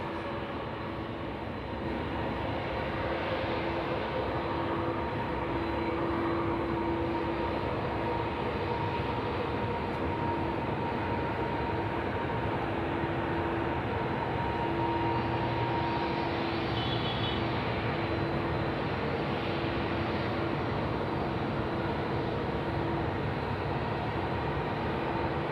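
A FedEx cargo plane on its night takeoff at Sydney Airport, a steady, loud jet roar that fills the whole stretch without letting up, with no talk over it.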